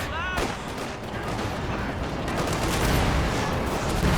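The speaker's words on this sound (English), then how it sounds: "By the time that mortar barrage completes, that's going to be a destroyed building" A mortar barrage in the real-time strategy game Company of Heroes 2 rumbles as a dense, continuous wash of blasts and crackling fire, loud and steady, while a commentator speaks over it.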